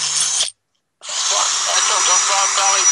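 A fully charged cordless drill whirs at high speed, cuts out briefly, then starts again and runs steadily, loud and close, with a faint voice underneath.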